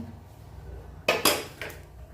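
Shrimp malai curry being stirred in a pan, with a few sharp metallic clinks and scrapes of a utensil against the pan standing out briefly over a quiet background.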